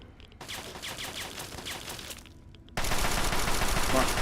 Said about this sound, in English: Oh shoot, that's a turret.